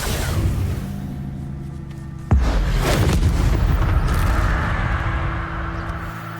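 The Incendio fire spell is cast in the Hogwarts Legacy game. After a steady ambient bed, a sharp whooshing blast bursts out and settles into a sustained fiery roar, with no talking.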